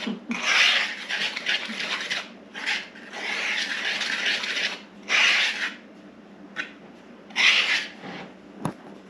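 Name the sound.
whisking cocoa and dry ingredients together in a bowl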